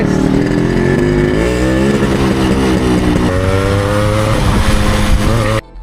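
A Yamaha RX100 two-stroke motorcycle engine runs close by, loud and continuous, its pitch rising and falling with throttle blips throughout before cutting off abruptly at the end.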